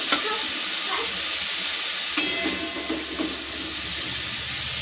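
Spice masala for kofta curry fries in a pan with a loud, dense, continuous sizzle and hiss, marked by a few clinks of stirring; no one talks.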